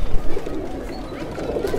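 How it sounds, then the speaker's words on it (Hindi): Pure Kalchocha pigeon cooing in a soft, low, continuous murmur close by, with faint background noise and a brief burst of louder sound at the start. "ये प्योर कलचोचा कबूतर है।"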